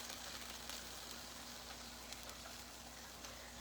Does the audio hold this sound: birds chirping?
no